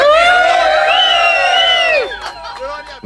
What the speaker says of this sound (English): He deserves a cheer